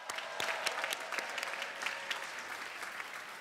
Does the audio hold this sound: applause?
yes